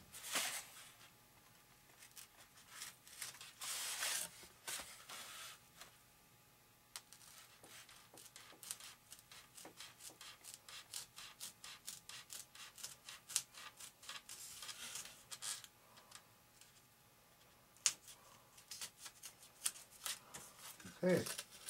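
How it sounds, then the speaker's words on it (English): A blade cuts out pieces of Depron foam for an RC airplane with rapid, faint crackling scratches and soft ticks, repeated in close bursts over a quiet background. "Now there's the 3 pieces of Depron. I need to cut out very carefully."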